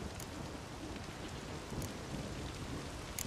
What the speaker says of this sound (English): Something's got to be done. About the storm.